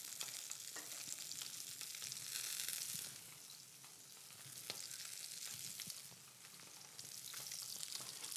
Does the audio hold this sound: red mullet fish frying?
yes